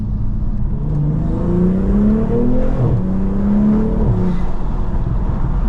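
A BMW M240i engine revving hard while driving, loud rising and falling revs through the gears, heard close from inside the car with steady road noise beneath.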